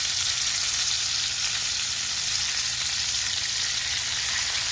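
Shrimp frying in a pan, a steady, dense hiss of sizzling oil that holds even and close throughout with no voices.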